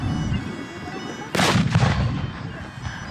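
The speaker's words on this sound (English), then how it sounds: "More mortar fire going into the Allies." A single mortar blast booms from a distance at a Napoleonic-era battle reenactment in Sedgefield, a sharp crack that rolls away in a rumbling echo over a quiet field.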